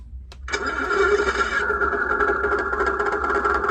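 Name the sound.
Tongde 1/16 RC Centurion tank engine scale sound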